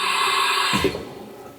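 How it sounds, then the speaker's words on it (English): A Haas vertical machining center runs a simulated tool change: a steady high mechanical whine gives way to a brief clunk from the changer, and then the machine settles into a quieter hum. "We are simulating a tool change."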